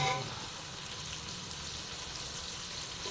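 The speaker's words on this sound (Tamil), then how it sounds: "நல்லா கண்ணாடி பதம் வர்ற வரைக்கும் வதக்கணும்" Onions for chicken biryani sizzle in a pan as they are sautéed until translucent, a steady close frying hiss that holds evenly throughout.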